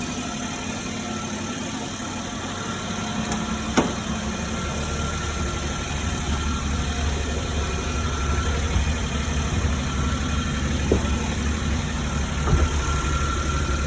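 A car engine runs steadily in first gear with the clutch out while the car sits on jack stands in two-wheel drive, giving a constant mid-pitched drone with a few faint knocks and no talking.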